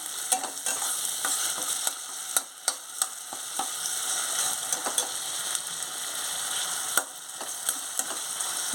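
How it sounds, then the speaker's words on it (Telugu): Ginger garlic paste frying in oil with onions in a pan, stirred with a spoon; a steady close sizzle with intermittent scraping clicks of the spoon against the pan, no talking. "ఇప్పుడు అల్లం వెల్లుల్లి పేస్ట్ ఒక స్పూన్ వేసుకుంటున్నాను మొత్తం కలిపేటట్టు కలుపుకోవాలి"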